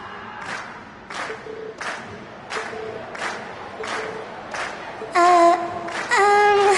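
A crowd in the Trails of Cold Steel video game cheers and applauds at the end of a class concert performance, coming in rhythmic bursts about twice a second before swelling louder alongside tonal music at the close.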